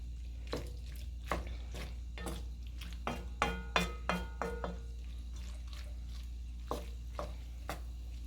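Cheese being stirred into pasta in a pot over a flame for macaroni and cheese, with irregular spoon scrapes and clinks against the pot over a steady low hum, busiest in the middle stretch.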